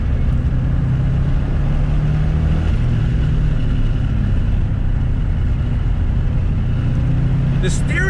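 Engine of a 1994 Subaru WRX STI rally car braking into a corner after a downshift to third, a steady loud low drone throughout with a brief higher burst near the end, under in-car talk.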